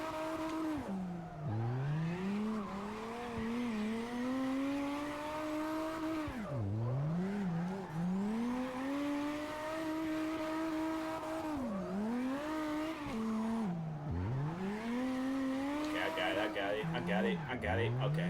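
Racing video game car engine revving in long rising and falling sweeps, with repeated dips as the car drifts, tire squeal mixed in, steady and loud throughout the clip.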